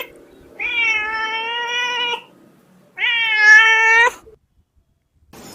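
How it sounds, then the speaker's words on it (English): A domestic cat meows twice, two drawn-out, clear, moderately loud calls separated by a short pause, heard alone without talk. "Cat,"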